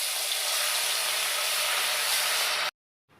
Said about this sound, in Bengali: তেল দিয়ে দিয়েছি, তলটা এসে গেছে, এবার আমি মাছটা ভেজে নেব